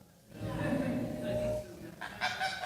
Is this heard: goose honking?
yes